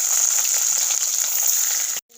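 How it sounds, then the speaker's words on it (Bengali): Bhetki fish fry in hot mustard oil in a kadai, giving a dense, even sizzle that holds steady for about two seconds and then cuts off abruptly. "মাছগুলো ভেজে নেবো"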